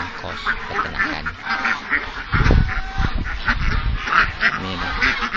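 Many ducks on a duck farm quack continuously in a dense, overlapping chorus, close and fairly loud, with a brief low thump partway through.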